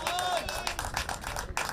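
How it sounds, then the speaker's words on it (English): Spectators applaud and cheer at a cricket match in Saudi Arabia after a single is taken, a steady patter of clapping with crowd voices mixed in across the whole moment. "Get a round of applause."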